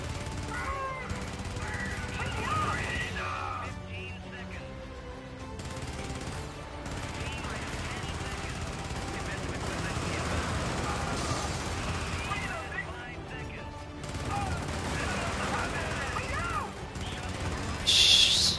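An out-of-control turret in the video game Helldivers fires sustained rapid automatic bursts that keep going for a long stretch, loud and dense, with explosive crackling layered underneath.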